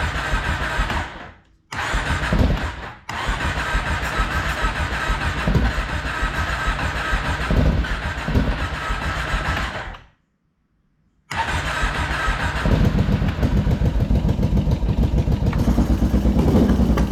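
A car engine with a new muffler and carburetor trouble cranks, catches and runs at a rough, loud idle close by, with a short silent gap before it restarts and keeps running.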